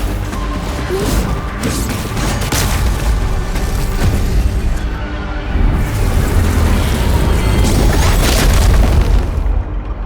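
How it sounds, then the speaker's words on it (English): An anchor being destroyed in a fantasy action video game: loud booming crashes and bursting, crumbling impacts pile into a sustained roar for ten seconds, with a heavier surge of rumbling destruction halfway through, no voices. "When we destroyed the anchor, that barrier seemed to change as well."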